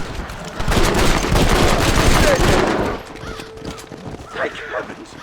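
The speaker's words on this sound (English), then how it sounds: "The bear! Shoot it! Shoot it!" Gunfire erupts at a bear in Red Dead Redemption, a loud burst of shots mixed with horse hooves and whinnying, while people shout over it.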